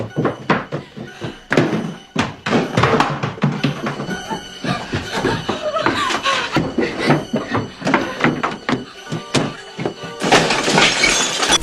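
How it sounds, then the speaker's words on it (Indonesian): A glass window is smashed in a dramatic scene. Repeated loud thuds, cracks and shattering impacts follow one another in a dense, continuous burst of destruction. "Setelah berhasil menjebol kaca jendela,"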